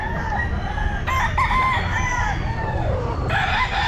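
A young rooster, a stag, crows at a busy pet market; there are a few crowing and clucking calls, close and clear, over steady background market noise.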